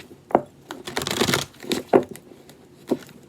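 Tarot cards riffled and shuffled by hand in irregular bursts, crisp papery slaps and rustles close to the microphone, with no talking.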